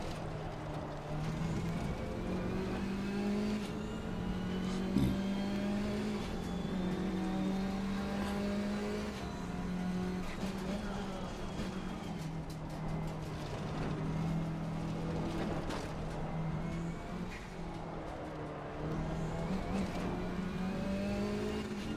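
KTM race car in Assetto Corsa Competizione at Oulton Park, its engine droning steadily and shifting pitch through gear changes and revs, continuous and close for the whole stretch with no talk over it.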